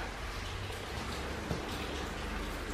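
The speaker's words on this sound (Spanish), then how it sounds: "así como está lloviendo, miren, está lloviendo" Steady, soft rain falls outside in winter near a clothesline, a faint continuous hiss of drops with no voices.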